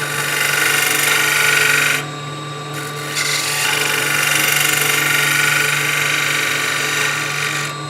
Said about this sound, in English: Little shear scrape to clean it up.